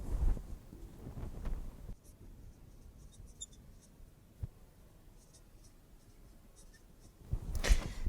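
Soft scratching of pen on paper while writing out given information, faint and steady, with quiet handling noises and louder bumps at the start and end.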